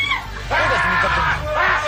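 A female Japanese fan shrieks on a comedy game show, a loud, sustained high-pitched scream in two bursts over crowd babble.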